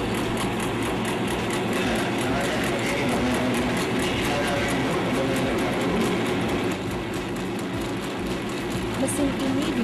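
An automatic meatball forming machine rated at 18,000 meatballs per hour runs continuously and loud, with a dense mechanical whir and fast rattling clatter that holds steady throughout.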